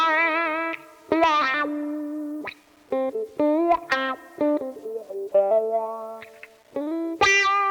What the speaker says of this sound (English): use the wah to accent certain notes in a melodic phrase